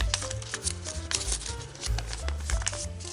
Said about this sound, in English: You can just fold the legs in like this. And then fold it in half.